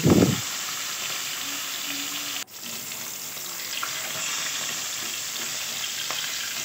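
Rui fish pieces fry in oil in a kadai, giving a steady close sizzle that runs the whole time, broken by one sharp click near the middle, with no voices.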